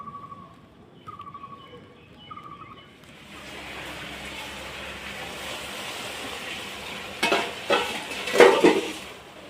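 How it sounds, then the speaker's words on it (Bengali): Spinach, pumpkin and potato ghyat stir-fried in a pan, a soft steady sizzle building after a few seconds, with louder scraping stirs near the end. "এখন আমি কষিয়ে নেব ঘ্যাটটা"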